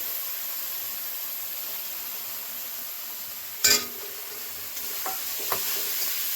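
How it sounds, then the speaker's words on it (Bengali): Prawns frying with spices in a pan give an even, close sizzling hiss, interrupted by one sharp clack of the spatula midway and a few lighter stirring taps afterward. "মশলার সঙ্গে মাছগুলো একসঙ্গে ভেজে নেব, কষিয়ে নেব।"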